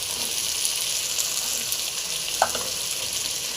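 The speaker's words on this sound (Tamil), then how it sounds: "தக்காளியும் போட்டு நல்லா ஃப்ரை பண்ணிக்கலாம்" Tomatoes frying in a pan for chicken gravy, a loud steady hiss and sizzle of hot oil throughout, with one faint clink of a utensil near the end.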